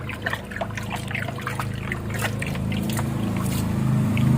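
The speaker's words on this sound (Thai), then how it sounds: "เทเสร็จแล้วก็ใช้ไม้คนๆหน่อยครับ" Water is stirred with a stick after being poured, for watering cacti, a close sloshing and trickling swirl that grows slightly louder over a low background hum.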